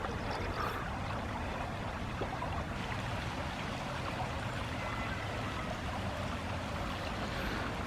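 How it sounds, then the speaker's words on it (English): Steady flowing water, like a stream or current running nearby, with a constant broad rush and no voices over it. "The water sounds nice."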